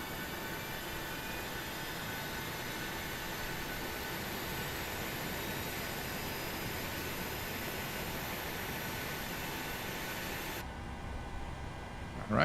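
A Boeing 737-700 jet engine spools up in the MSFS flight simulator: a steady, dense whine and roar holding level for several seconds before cutting away near the end.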